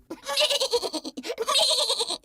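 A voice imitates a sheep's bleating, like the sheep Shaun, in a series of wavering, quavering crying sounds, close and fairly loud.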